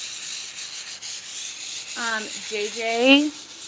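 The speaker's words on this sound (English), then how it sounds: "I'm just barely sanding the piece here" Steady, close, light sanding rasps back and forth across an airbrushed piece, and a voice briefly speaks over it near the end.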